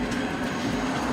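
A passenger train rumbles in a steady low drone with a faint continuous hum, close by and unbroken throughout.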